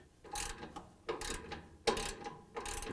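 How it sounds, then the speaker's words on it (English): A 7/16 socket wrench ratcheting on a GE dryer idler pulley: four close, quick bursts of clicking pawl chatter separated by short pauses, in a quiet room. "I'm gonna use this socket wrench, 7/16"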